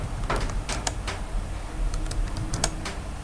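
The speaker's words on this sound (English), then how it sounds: "See, I am typing my name." Rapid typing on a computer keyboard while entering a name into a JavaScript web program, a steady stream of close, crisp key clicks with short pauses and no voices.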